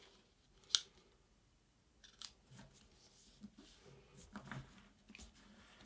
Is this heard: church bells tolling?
no